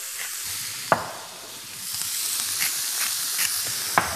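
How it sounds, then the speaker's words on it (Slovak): Chopped vegetables sauté in a little oil in a hot pan, a steady close sizzle and hiss with occasional stirring clicks and scrapes, and no voices. "teraz na rozpalenú panvicu pridáme kúsok oleja, na ktoré si opečieme túto nakrájanú zeleninu."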